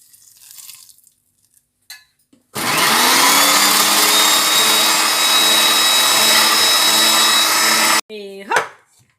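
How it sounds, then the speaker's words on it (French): A mixer whips crème pâtissière with melted butter at full speed for a traditional strawberry fraisier, a loud, steady whirring drone that starts abruptly, holds for about five seconds and cuts off, with brief voices before and after. "Donc je fais tourner à fond la crème pâtissière et je verse le beurre fondu juste avant de mettre à tourner"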